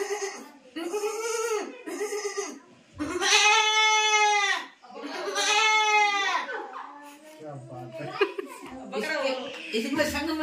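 A person imitates a male goat, giving several drawn-out, wavering bleats in a row, loud and close, with brief laughter and chatter between the calls.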